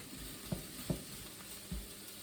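Sliced chestnut mushrooms sizzle in a pan over a camping stove with a soft, constant frying hiss, broken by a few dull knocks and scrapes from stirring, quiet and close.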